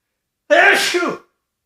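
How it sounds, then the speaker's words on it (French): A single loud, close sneeze with a sharp breathy onset and a short voiced tail, lasting under a second, with silence before and after. "Là, je vais éternuer."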